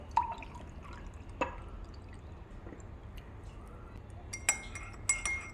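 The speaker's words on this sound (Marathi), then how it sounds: "आता ह्याच्यात आपण पाणी मिक्स करूयात" A few light clinks and splashes from a spoon stirring water into amla, lemon and mint sherbet in a glass, sparse and close, against quiet room noise.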